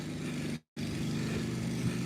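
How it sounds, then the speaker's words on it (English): A small riding lawn mower cuts a residential yard nearby, its engine holding a steady low drone throughout, broken only by a brief silent gap partway through. "Gentleman out mowing his yard. A little riding mower."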